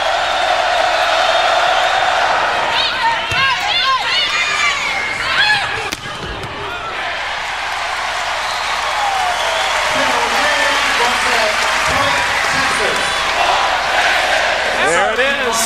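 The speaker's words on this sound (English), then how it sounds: "The crowd says point Texas after every Longhorn point." A volleyball arena crowd roars and chants in unison after a Texas Longhorns point, a loud sustained wall of cheering with rhythmic shouted calls and scattered claps, with a commentator's voice over it.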